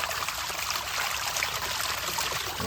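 Water rushing steadily through a Bestway pool sand filter, a continuous close hiss and trickle at even loudness, no talk.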